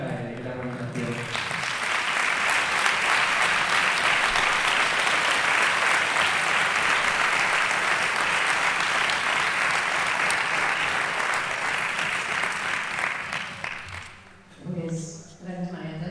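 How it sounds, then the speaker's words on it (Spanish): Sustained applause from an audience at the opening event of a Galician political gathering, honoring the Marea Atlántica people and organizers; dense steady clapping swells in after brief talk, holds for about twelve seconds, then fades as a voice resumes. "un aplauso por a xente da Marea Atlántica e da organización"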